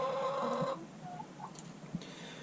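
Chickens give soft, drawn-out clucks and murmurs inside a heated coop during an arctic cold snap, fading to scattered faint calls.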